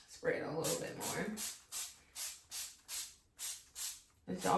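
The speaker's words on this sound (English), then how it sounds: "I'm just gonna spray that through" Spray bottle misting water onto box-braided hair in a series of about eight short, evenly spaced hissing bursts, close and fairly loud, with a brief voice at the start.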